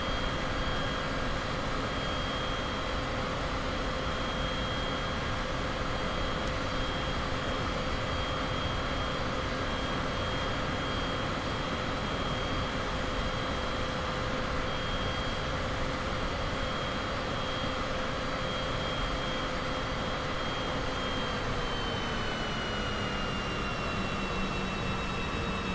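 Steady engine drone of a Cessna in a flight simulator, with a continuous tonal hum and broadband roar held at constant loudness throughout, shifting slightly in pitch near the end.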